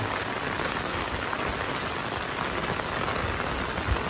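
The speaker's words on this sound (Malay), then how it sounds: "Ini suasana kalau turun pas hari hujan lebat sana" Heavy rain falls steadily on a muddy road, a dense, continuous hiss of drops that stays loud and even throughout, with no voices.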